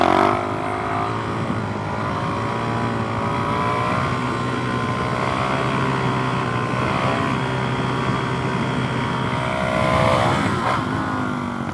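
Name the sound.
Suzuki DRZ 400SM motorcycle doing a wheelie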